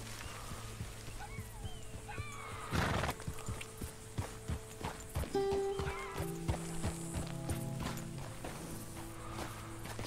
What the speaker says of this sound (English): You're my new horse.